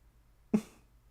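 A single short sneeze bursts out once amid quiet, sharp at the start and fading quickly.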